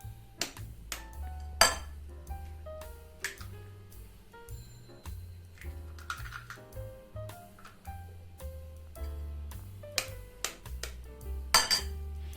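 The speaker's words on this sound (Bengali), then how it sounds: "ডিমগুলো ফাটিয়ে দিয়ে দিচ্ছি" Eggs cracked into a bowl with chopped chilli while making an oats paratha, heard as a long run of sharp shell taps and clinks against the bowl, close and fairly loud, repeating irregularly with no talking.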